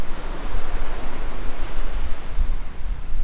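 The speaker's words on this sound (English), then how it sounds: "at high tide, the waves lap the bank" Waves lapping the beach at high tide at Sandy Cape on Fraser Island, a steady, close, hissing wash of surf with gentle swells and no voices.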